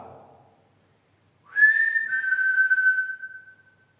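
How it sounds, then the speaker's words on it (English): A single sustained whistle in the cellar of Strelly Hall, a clear pure tone that slides slightly downward and fades, heard alone after a brief moment of quiet. "If I whistle, can you whistle back?"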